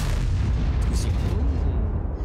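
A Grille 15 tank destroyer in World of Tanks fires an artillery shell: one heavy, deep boom with a long rolling rumble that fills the whole moment, close and loud.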